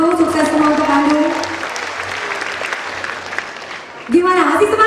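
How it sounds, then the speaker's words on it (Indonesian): A concert audience at a pop music show at Sabuga ITB in Bandung claps in a steady wash of applause between stretches of someone talking over a microphone. "Boleh saya minta tepuk tangannya dulu, sukses semua untuk Bandung"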